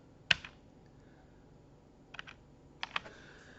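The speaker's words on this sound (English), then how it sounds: "just hit Control on your keyboard and your minus button" Computer keyboard keys are pressed for a Control-plus-minus shortcut: one sharp click, a pause, then two short clusters of taps, close and distinct in a quiet room.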